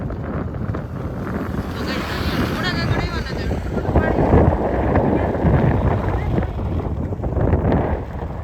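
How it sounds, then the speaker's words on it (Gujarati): Wind gusting across an open seashore with water nearby buffets the microphone in a steady roar that swells in the middle, while people talk throughout. "પવન હે"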